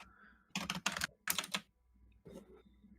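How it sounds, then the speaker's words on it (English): Loud, clattering computer keyboard typing in bursts of rapid keystrokes, with a short pause between clusters, close to the microphone and alone with no talking. "you're typing super loud"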